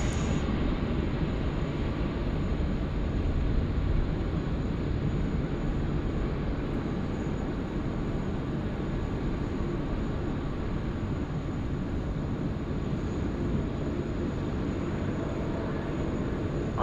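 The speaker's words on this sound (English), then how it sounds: "How good is it to still see the 747 operating?" A Boeing 747 airliner operates at Sydney Airport, giving a steady, continuous engine roar and low rumble heard from some distance, unbroken throughout.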